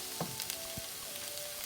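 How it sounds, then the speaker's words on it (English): Broccoli florets sizzle steadily in a hot skillet for a ramen noodle dish, a close, even hiss of frying with a few faint clicks and stirring touches. "I have my vegetables sizzling on the pan"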